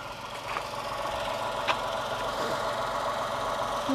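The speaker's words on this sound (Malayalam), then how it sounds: "അപ്പോൾ നമുക്കിനി എഞ്ചിനൊന്ന് നോക്കാം, വൈബ്രേഷൻ ഉണ്ടോയെന്നുള്ളത്." A Tata Tiago car engine idles after an oil change to fully synthetic Shell Helix oil. It gives a steady, even mid-range hum with a faint knocking texture and a couple of small ticks, with no speech.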